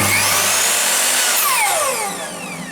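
An Einhell TH-MS 2513 L miter saw motor spins up loud and close, its whine sliding in pitch as it reaches speed, then running steadily and easing slightly toward the end with no voices.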